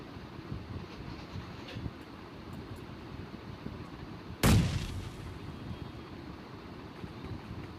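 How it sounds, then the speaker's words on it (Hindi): A single loud grenade explosion in an arcade-mode battle royale shooter game bursts out mid-clip over steady wind-like ambient noise, with a short rumbling decay afterward. "तो अब मेरे को ग्रेनेड का साउंड मिला था"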